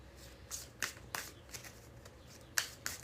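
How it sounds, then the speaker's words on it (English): Tarot cards being shuffled by hand in quick, crisp riffling bursts with short pauses between, close and fairly quiet with no talking. "And we'll get 3 more shuffles."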